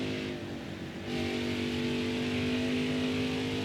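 A NASCAR Heat 4 race truck's engine revs in the video game, a steady loud engine roar with harmonic drone that steps up in pitch about a second in and holds.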